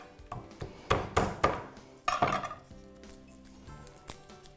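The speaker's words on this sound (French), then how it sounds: "Je vais les hacher finement." A knife chops two large garlic cloves finely on a board, making a few sharp, irregular taps and clacks that fade toward the end, close and fairly quiet.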